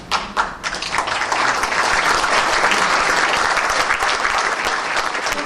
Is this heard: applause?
yes